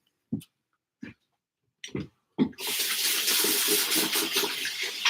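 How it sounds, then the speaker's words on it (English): Several brief close thumps and knocks come first, then a tap turns on and water runs steadily as hands are washed beneath it, a constant splashing flow to the end. "So I'm going to wash my hands so I don't get any of the oil onto the outside of the jar"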